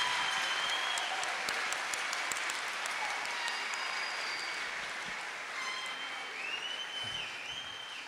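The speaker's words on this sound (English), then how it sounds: "How about one more round of applause for all of them?" Audience at a Brandon Valley High School graduation ceremony applauds the graduates, a steady, sustained wash of clapping from a large indoor crowd that stays loud throughout with no speech on top.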